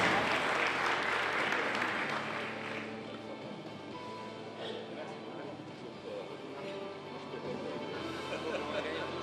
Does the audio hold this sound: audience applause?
yes